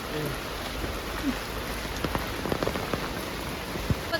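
Steady rain falls outdoors in a herb garden in Thekkady, Kerala, with a dense hiss of drops on leaves and surfaces and scattered louder drip hits close by.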